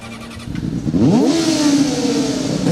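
Formula Student combustion race car at a skid pad event, idling briefly before its engine revs sharply upward and settles into a loud, buzzy rasp, close by and without talk.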